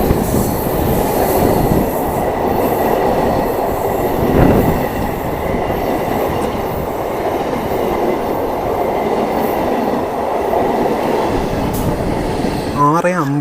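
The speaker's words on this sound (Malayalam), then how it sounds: "അപ്പോൾ കണ്ണൂർ ഷൊർണൂർ മെമു ആണ് ഈ വരുന്നത്" Kannur–Shoranur MEMU train rolling steadily through Vadakara station, a loud continuous rumble of wheels on rails with faint squeals, ending in a short rising horn-like tone as it passes close by.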